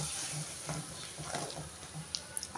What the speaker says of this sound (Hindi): 2 बड़े वाले टमाटर प्यूरी डाल रही हूँ।